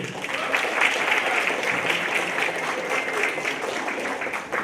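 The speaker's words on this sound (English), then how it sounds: "Let's give one round of applause again for Patrick" Audience at a Social Justice Day soapbox speech event gives a round of applause for a speaker, a sustained crowd of clapping hands at moderate loudness, fairly even from start to finish.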